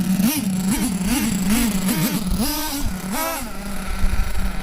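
A nitro model engine runs close and loud, its high buzzing note rising and falling in quick blips of throttle between steady stretches.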